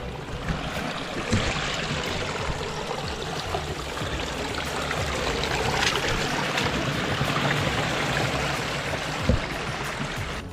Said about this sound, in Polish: taki sobie strumyczek tutaj wpływa